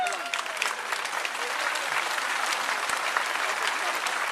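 Steady, dense applause from a large crowd at an Armenian National Congress political rally, sustained and even throughout without a break.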